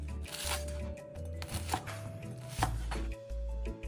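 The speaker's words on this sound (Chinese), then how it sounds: "切几个炸面团，" A knife chops through crispy fried dough fritters on a board with about six sharp, crunchy cuts at irregular intervals, close and distinct over a low steady hum, with no talking.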